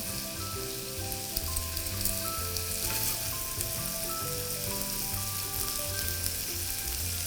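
Bacon-wrapped cheese sausages fry in hot oil with a dense, steady crackling sizzle and occasional pops, close and continuous with no talking.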